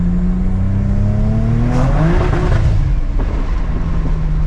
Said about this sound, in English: That was the rev limiter.